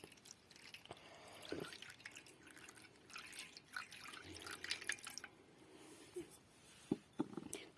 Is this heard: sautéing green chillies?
no